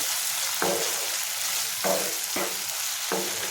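Cluster beans frying with dried prawns in a pan, a steady close sizzle broken by four sharp stirring scrapes spaced about a second apart, with no voices.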